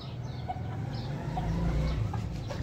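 Chickens on a farm setup, just let out for the day, clucking in a steady low murmur of poultry sounds with a few faint higher calls, no talking.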